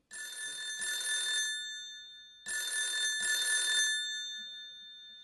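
A telephone bell rings in two long bursts separated by a short gap, bright and clear with a metallic trill, heard alone with no voices.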